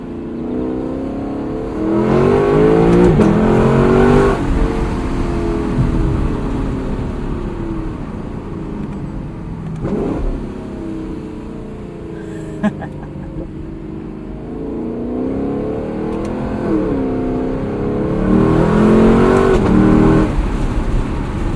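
2018 Lexus LC 500 engine pulling hard through gears in manual mode with windows open, a loud rising roar that drops at each shift and climbs again, heard from inside the cabin.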